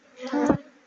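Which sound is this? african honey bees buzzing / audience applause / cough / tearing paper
african honey bees buzzing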